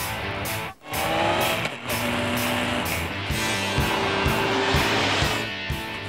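A Honda CB1300 motorcycle's heavy engine growls steadily and loudly throughout, rising and holding in a continuous rumble with brief dips, close to the listener with no talk.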